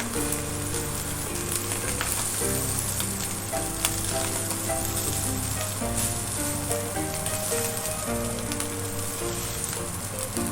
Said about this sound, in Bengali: ভাজতে ভাজতে ভাতটা পুরোটাই সিদ্ধ হয়ে গেছে।